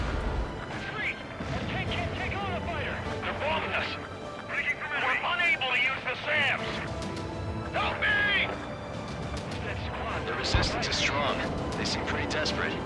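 Bombs explode in Ace Combat 7, mission Lost Kingdom, as rumbling, crashing blasts and battle noise under shouted in-game radio voices and music, with a sharper hit near the end.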